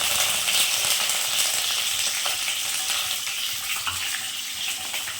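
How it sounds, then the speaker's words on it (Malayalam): Split onions frying in hot oil, the start of a dry gobi manchurian, give a steady close sizzle that keeps going throughout with no talk over it. "ഇനി നമുക്ക് ആദ്യം സ്പ്ലിറ്റ് ഒനിയൻ ഇട്ട് ഫ്രൈ ചെയ്യാം"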